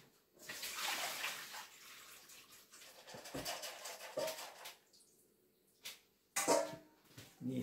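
Liquid being poured off while making a curd cheese mold: a steady splashing pour for several seconds, then scattered clinks and softer trickles of vessels being handled, with no talking.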